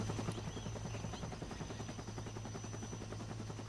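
Helicopter in the Vietnam War video game Conflict: Vietnam, a steady, loud rotor chop with a constant low hum running throughout, close and continuous with no talk.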